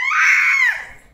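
A baby lets out one loud, piercing scream at night, holding it for under a second before it cuts off and trails away into quiet.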